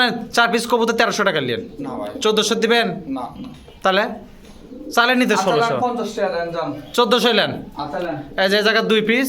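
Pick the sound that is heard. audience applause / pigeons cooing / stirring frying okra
pigeons cooing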